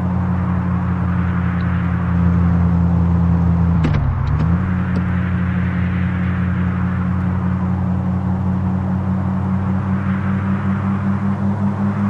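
Steady engine drone and road rumble from a Mahindra Scorpio N SUV driving on a mountain road, heard from inside, with a brief dip in engine note partway through and continuous whooshing wind and tire noise.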